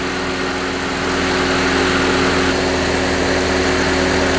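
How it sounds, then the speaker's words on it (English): A car engine idles steadily during a battery charging test, a loud continuous hum with a constant low tone, close to the microphone and with no talking. "We're just going to leave the vehicle running."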